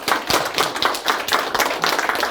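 A lecture audience at an Anyang tax accountants' association talk breaks into brisk applause, with quick overlapping handclaps in uneven bursts that carry on steadily at moderate volume, with no one speaking over them.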